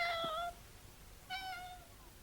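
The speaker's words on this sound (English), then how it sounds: "How did you get in here, Puss?" A cat on the Isle of Man gives two clear, close meows about a second apart, each short and rising then falling, with quiet room tone between them.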